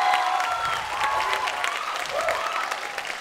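Audience clapping at a 2012 ATCC final competition in Taiwan, dense continuous applause from a crowd with faint voices mixed in, filling the whole stretch.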